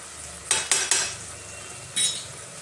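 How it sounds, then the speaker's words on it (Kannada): Grated coconut and leafy greens are stirred in a pan with a utensil, giving a soft sizzling bed broken by four scraping strokes, three close together then one more after a pause, with no voices. "ಮಧ್ಯೆ ಮಧ್ಯೆ ಈ ಥರ ಕೈ ಆಡಿಸ್ತಾ ಇರಬೇಕು"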